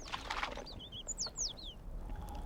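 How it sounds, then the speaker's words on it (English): Several birds call in the Galapagos highlands near a crater rim, with bright rising and falling whistled chirps and a short burst of twittering over a steady outdoor background hiss. "There are several kinds of birds up here."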